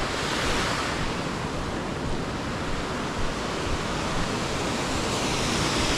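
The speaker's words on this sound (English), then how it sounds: "You can get the full waterfall on there." A waterfall near a small cave in central Oregon's McKay Butte area gives a steady, unbroken roar of rushing water, loud and even throughout with no voices.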